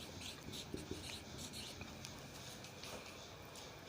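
A pen moves across paper in quiet, close scratching strokes, a soft continuous rasp with a few slightly sharper taps as letters are formed.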